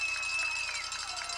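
A capacity crowd at a high school football game hums and cheers in the distance under a voice, a steady wash of crowd noise.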